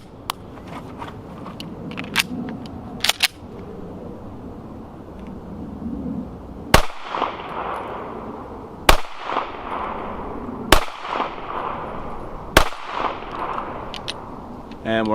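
Single shots from a Taurus G3C pistol suffering failure-to-eject and failure-to-go-into-battery malfunctions, fired outdoors at uneven intervals with sharp cracks and echoing tails, several loud reports spaced a couple of seconds apart.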